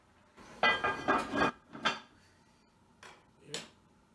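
A few metallic clanks and clinks of a lid settling onto a pot, a cluster of rattles followed by two lighter taps.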